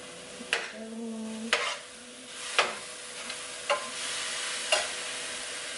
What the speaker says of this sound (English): I wanna mix it up real good so that I know the whole thing is coated with soy sauce.